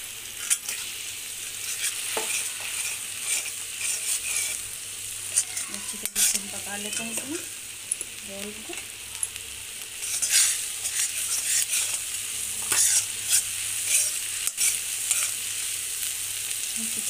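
Semolina and potato mixture cooking in a pan, stirred with a spoon: continuous close sizzle and scraping with occasional utensil clinks against the pan, no talking.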